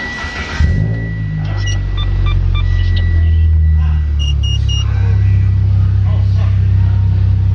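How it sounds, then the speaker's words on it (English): A car engine cranks and catches just under a second in, then settles into a steady, loud, close idle that runs to the end, with a few faint electrical chirps over the first seconds during a gauge install. "Alright, so start up the car."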